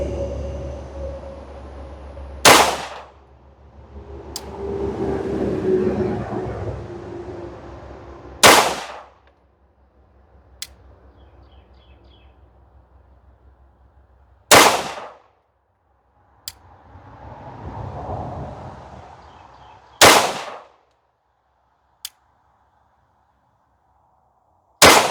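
A Rost Martin RM1C 9mm handgun fired from a steady rest gives five sharp, loud shots spaced roughly six seconds apart, with faint clinks and handling noises in between.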